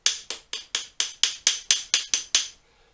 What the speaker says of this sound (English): with a small hammer